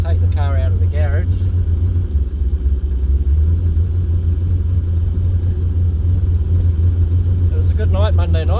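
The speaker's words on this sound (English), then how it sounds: "so I'll have to take the car out of the garage." A two-wheel-drive roll-racing car eases out of a small garage, its engine a steady, loud low rumble throughout, with a voice talking briefly at the start and end.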